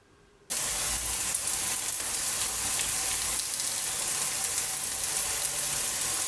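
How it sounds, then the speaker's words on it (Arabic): Small onions frying in hot oil in a pan, a steady bright sizzle and crackle that starts abruptly after a brief quiet moment and holds level and close throughout, with no voices. "غادي نضيف عليهم هنايا الزيت وغادي نخليهم هنايا، نخلي داك البصيله غير شويه تهبط"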